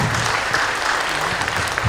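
Sustained, dense audience applause at a devotional closing speech event, steady and loud throughout without pause.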